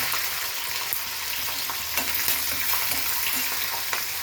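Green chillies fry with cumin, dal and peanuts in hot oil for street-style poha, a steady close sizzle broken by occasional stirring scrapes, with no one talking.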